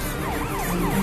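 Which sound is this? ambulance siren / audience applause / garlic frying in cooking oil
ambulance siren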